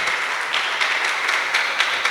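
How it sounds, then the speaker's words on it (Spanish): Church congregation applause, a steady bright wash of many hands clapping with occasional sharper bursts and no clear talking. "demos más aplausos al que vive, reina y permanece por los siglos de los siglos"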